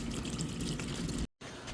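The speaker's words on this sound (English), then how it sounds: "It's draining." Coolant drains steadily from the radiator of a 7th-generation Honda Accord with a KA24 engine, a constant splashing trickle that breaks off briefly near the end before resuming.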